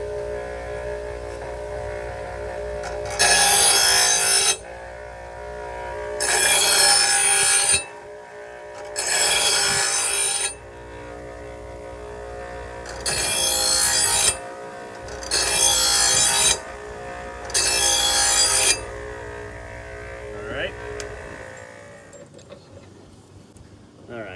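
A file or sharpener is drawn along the cutting edge of a zero-turn mower blade in six loud, close rasping strokes, each lasting about a second with short pauses between them, followed by quieter handling noise.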